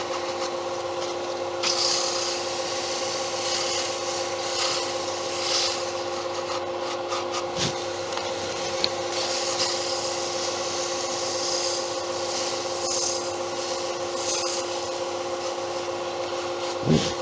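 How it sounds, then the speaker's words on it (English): Sandpaper rubs steadily against a wooden piece spinning on a wood lathe, a continuous close rasping hiss over the lathe's constant motor hum, with no talking. "Quick sanding."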